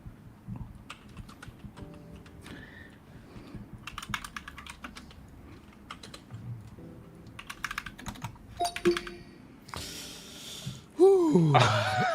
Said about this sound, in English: See, I kept typing in people's names.